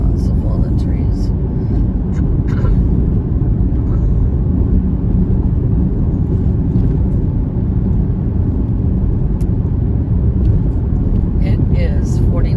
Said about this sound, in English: Here comes our third car passing me up.